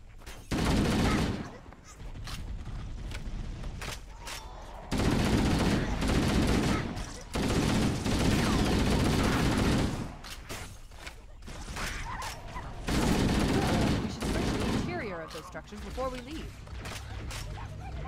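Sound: gunfire in the video game Halo: Combat Evolved

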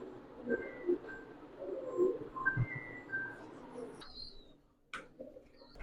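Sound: pigeons cooing

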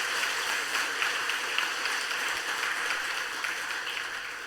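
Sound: church congregation applause

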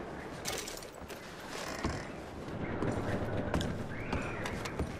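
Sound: horses in Red Dead Redemption 2 (video game)

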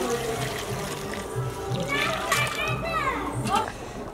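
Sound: hot water poured into Bengali mutton curry

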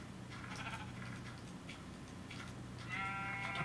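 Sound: sheep bleating in Minecraft video game

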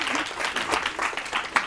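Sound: audience applause on a TV quiz show

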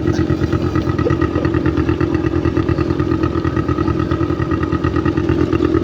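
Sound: motorcycle engine

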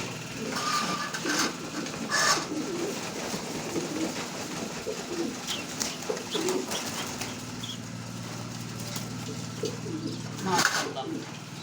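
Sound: young racing pigeons cooing

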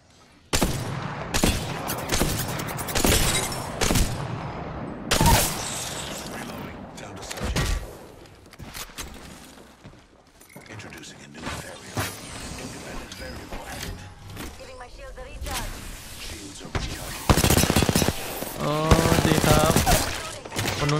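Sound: gunfire from a video game, hip-fired gun

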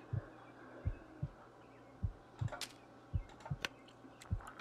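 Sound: player heartbeat in the video game The Long Dark

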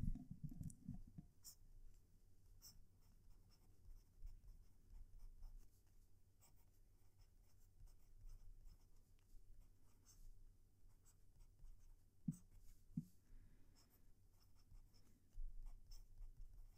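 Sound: TWSBI fountain pen writing on paper

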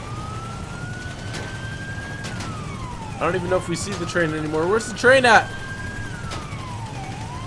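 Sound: police car sirens in GTA 5 video game

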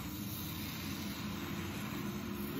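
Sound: oxyacetylene torch flame for brazing

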